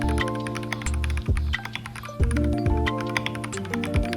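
Scattered light taps and clicks from an Akko 5087s tenkeyless keyboard fitted with Jelly Pink linear switches, soft and close over a steady tonal background bed.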